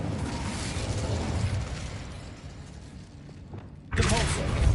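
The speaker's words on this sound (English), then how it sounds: "Incendio!" A fire spell from Hogwarts Legacy bursts out loudly near the end, a sudden broad whoosh of flame rising out of a low rumbling magical background.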